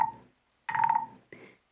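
Medium-sized frog-shaped noisemaker giving three short, reedy croaks, the middle one longest, close and fairly quiet.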